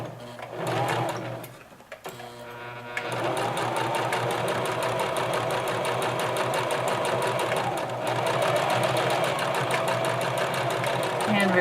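A sewing machine stitches a lined patch pocket, running in a steady, continuous whir for most of the clip after a brief start-stop near the beginning, close and loud.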